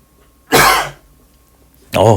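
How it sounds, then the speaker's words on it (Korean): A single sharp cough bursts out close to the mic, followed by a short pause before a voice starts speaking. "기침이 나오는데 죄송합니다."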